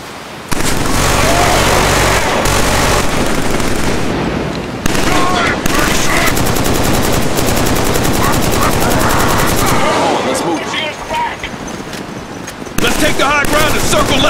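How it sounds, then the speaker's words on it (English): Sustained suppressing machine gun fire in the video game Killzone 3, loud, dense rapid bursts nearly continuous with brief breaks, while voices shout over the gunfire. "Target using suppressing fire! Suppressing fire!"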